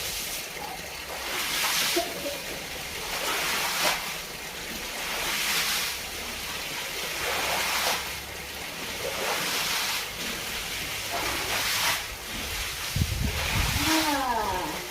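Water splashes and sloshes in repeated broad bursts about every two seconds as the floor of a new house is washed, steady and fairly close, with no talk.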